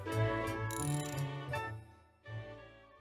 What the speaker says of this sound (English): we'll get through this apocalypse, one crank at a time. Keep cranking, boys.